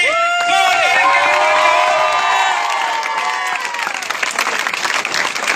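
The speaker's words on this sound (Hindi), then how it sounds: "जोरदार तालियां के लिए।" A crowd claps and cheers steadily at an award ceremony for a 5 km running race, loud and sustained, with shouts and whoops rising over the applause before it thins out.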